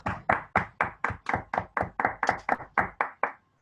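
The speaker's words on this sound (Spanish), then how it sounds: "Desmuteados, un aplauso." Unmuted participants on a video call clapping in steady rhythm, about a dozen sharp, evenly spaced claps that sound close and thin, like a single pair of hands through a microphone, ending abruptly.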